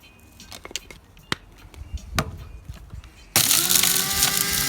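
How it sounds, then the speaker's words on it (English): Electric spice grinder blitzing Caribbean curry powder spices, preceded by a few sharp knocks and handling clicks, then the motor starts with a sudden loud, steady whirring roar near the end. "And then we'll give it all a good blitz in the grinder."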